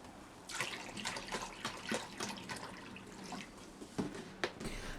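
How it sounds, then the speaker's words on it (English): Raw apple cider vinegar poured into about two litres of boiled, cooled water, giving a steady splashing liquid stream with irregular gurgles and drips, close and moderately quiet, with no talk. "I'm adding the same amount of raw apple cider vinegar"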